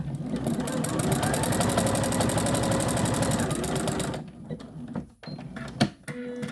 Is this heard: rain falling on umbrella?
no